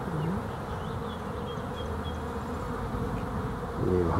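Honey bees at a hive entrance make a steady, close buzzing hum with individual bees droning past, and nobody talks.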